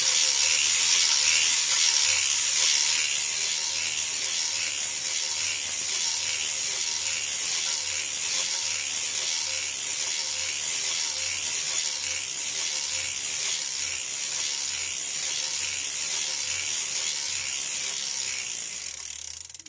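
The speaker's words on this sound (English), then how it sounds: "no heel string on, crank 30 rows" A circular sock knitting machine is cranked through rows, giving a steady, continuous mechanical clicking and ratcheting that runs the full length at an even pace, with no voices.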